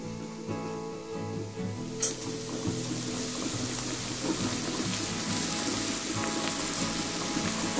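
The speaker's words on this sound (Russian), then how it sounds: "И жарю вместе с луком уже." Sliced mushrooms and onion fry in a skillet with a steady close sizzle that holds for several seconds, after a faint clatter near the start.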